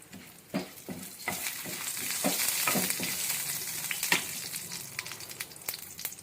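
Tempering seeds spluttering in a little hot oil for a ridge gourd and mint curry, with sharp irregular pops and crackles over a rising sizzle that swells toward the middle and thins out near the end.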